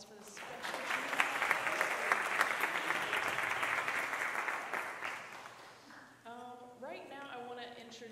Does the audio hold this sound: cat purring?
no